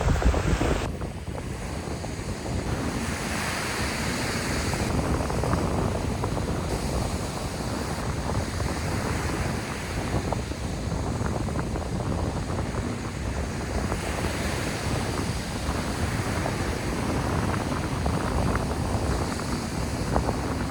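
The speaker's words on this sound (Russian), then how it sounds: "Ой, как громко волны." Loud ocean waves break on a Vladivostok beach used for surfing, a continuous close, heavy wash of surf with wind noise and no talking.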